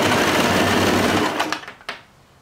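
A sewing machine stitches the waistband of a pair of boy shorts in a loud, steady close-up whir, then slows and stops with a couple of mechanical clicks.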